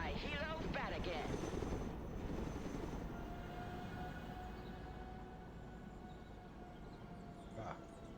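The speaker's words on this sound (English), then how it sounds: "Chinook, reporting in. Call my helo bat again." A Chinook helicopter in the Broken Arrow video game gives a low, continuous rotor rumble that holds steady and slowly eases in level. A voice talks briefly at the start.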